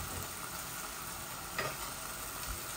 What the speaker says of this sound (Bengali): আমি সবগুলো এভাবে ভেজে নিচ্ছি